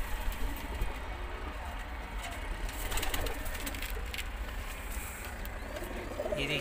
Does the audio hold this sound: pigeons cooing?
yes